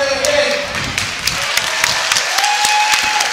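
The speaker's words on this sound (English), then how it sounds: "Well earned round of applause" Applause from a boxing crowd after a close fight awaiting the judges' decision, loud claps with sharp individual hits and thuds over a busy arena hum, while a voice speaks over the noise.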